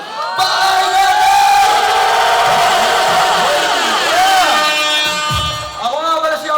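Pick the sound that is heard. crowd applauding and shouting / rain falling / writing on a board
crowd applauding and shouting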